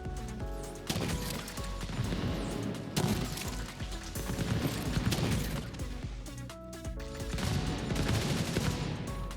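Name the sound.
gunfire in the video game Division 2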